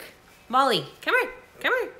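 Several dogs bark indoors in three sharp, loud bursts, each a rising-falling yelp, with a person calling to one of the dogs between and over the barks.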